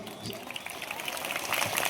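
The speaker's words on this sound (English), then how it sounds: "once again, even louder round of applause" A congregation at a priest's 25th ordination anniversary celebration claps in a brief, fairly faint round of applause that swells slightly toward the end.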